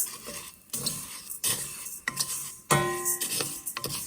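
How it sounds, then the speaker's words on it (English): Fideo noodles stirred in a pot until golden brown, a utensil scraping and clinking against the metal in repeated strokes about every half second, with a light sizzle underneath and no talk. "Keep stirring them until they get golden brown."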